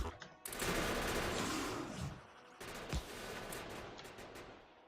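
Defensive turrets firing in the Factorio video game, a dense, continuous rattle of gunfire with a few heavier thumps, loud and close, running for several seconds with a short gap midway.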